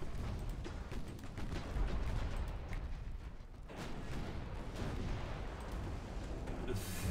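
Naval gunfire from warships in the Ultimate Admiral Dreadnoughts game: a dense, continuous rumble of booming cannon fire and distant blasts, steady and loud throughout, with no talking.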